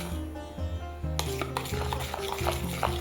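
A thick honey beauty paste is worked with a spoon after a few drops of water are added, giving close, steady scraping and clinking strokes against the bowl, with a low background hum and no talk.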